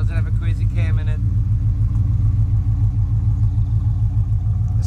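A 1970 Chevelle SS 454 V8 idles with a steady, low, even rumble, close and fairly loud, while someone talks briefly at the start.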